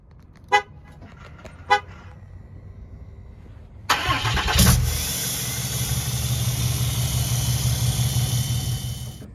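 A Cummins 6.7 turbo diesel engine: two short beeps, then the engine cranks and fires at about four seconds into a loud, steady, close diesel rumble that carries on to the end.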